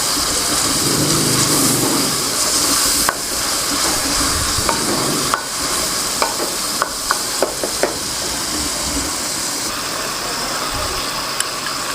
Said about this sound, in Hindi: अब 3 से 4 मिनट हम टमाटरों को अच्छी तरह भूनेंगे।